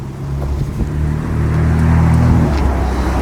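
A nearby car engine drones low and loud, its pitch climbing and then falling away as the gear is changed down, all within a few seconds.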